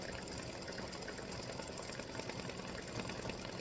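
An embroidery machine stitches a small band onto a freestanding-lace witch's hat, a steady, dense mechanical whir with rapid needle chatter, continuous and close, with no voices.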